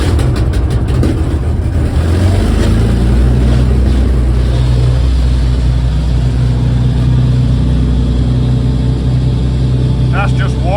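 A single piston aircraft engine running close by, heard from the wireless operator's seat beside it; a steady, loud, unbroken drone with a deep rumble that holds throughout.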